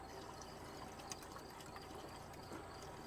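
A gallon of plain water poured into pure antifreeze to make a 50-50 mix, giving a steady, continuous liquid rush at moderate distance with little variation throughout.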